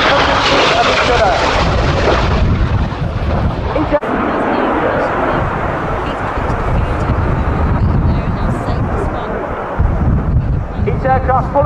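Red Arrows jets at the Royal International Air Tattoo pass each other at speed, a loud roaring rush with heavy wind buffeting on the microphone, while a commentator talks over the noise.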